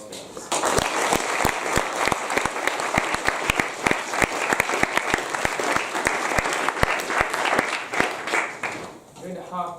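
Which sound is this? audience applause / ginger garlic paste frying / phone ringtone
audience applause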